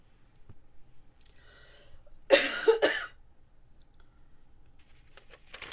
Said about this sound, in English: I'm sorry to keep coughing in your ear.